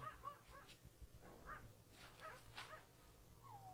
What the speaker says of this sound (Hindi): कुत्ते की रोने की आवाज़ आ रही है।